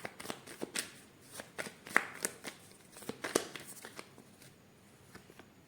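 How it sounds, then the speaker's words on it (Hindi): A deck of playing cards is shuffled by hand, with quiet, close rapid riffles and soft flicking bursts in an irregular rhythm over several seconds, then tapering off. "थोड़ा सा और शफल करते हैं।"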